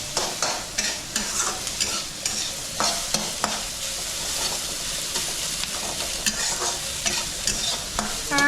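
Onions fry in a hot pan, a steady sizzle broken by frequent scraping and stirring clatter from a spatula, close and moderately loud throughout with no voices.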